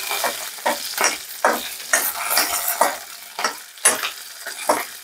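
Onions and four large green chillies fry in a pan while a spoon stirs them, giving a steady sizzle broken by a dozen or so scraping strokes that come in an uneven rhythm, close and fairly loud with no one talking.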